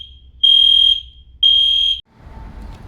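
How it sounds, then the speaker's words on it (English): Alarm going off at 2 in the morning, sounding two loud, steady high-pitched beeps of about half a second each with a short gap, then cutting out into quiet room noise. "It has been a half hour now and this alarm is still going off."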